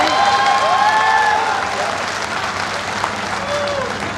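Audience applause at a Hindi kavi sammelan poetry recital in Budhar, a dense crowd clapping steadily for the full stretch, with faint cheering and a voice or two rising over it.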